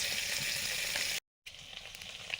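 Prawns rubbed with salt and turmeric fry in hot oil, giving a steady, close sizzling hiss that cuts out briefly before resuming a little quieter.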